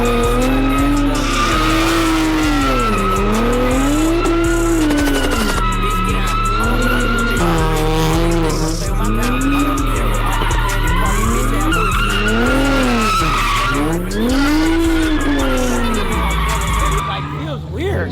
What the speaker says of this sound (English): Look, you gotta do a burnout to start it off, like small burnout.